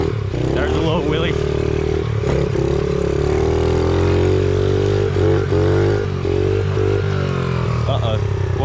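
On a dirt trail, a pit bike engine revs loud and near in first gear, its buzzing note rising and falling as the throttle changes, with a rider's voice talking over the engine.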